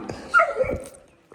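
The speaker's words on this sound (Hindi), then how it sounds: "और कैसे भौंक रही है" A dog gives a few short, sharp barks and yips close by in a rural farmyard where goats are being let out, the burst lasting about a second before fading.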